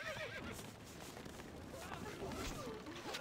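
A horse whinnies in Stronghold: Crusader over steady hoofbeats and a busy background bed, loud and close, with a second neigh near the end.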